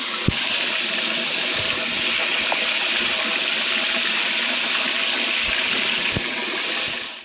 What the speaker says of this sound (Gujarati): ફુવારા મારે છે,